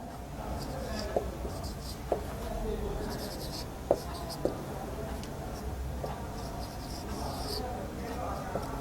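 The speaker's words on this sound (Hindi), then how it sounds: "हम आपके सामने मुश्किल अल्फाज के मौनी यहाँ पर लिखेंगे" Writing words on a classroom board produces soft scratchy strokes with a few sharp taps, heard close under continuous talk from a teacher.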